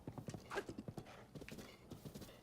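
Rapid clip-clop of horse hooves at a gallop in The Legend of Zelda: Breath of the Wild, with a short neigh mid-run, loud and close against faint game ambience.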